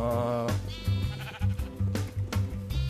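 Minecraft sheep bleating several times in quick succession, loud and close, overlapping wavering baas filling the whole stretch.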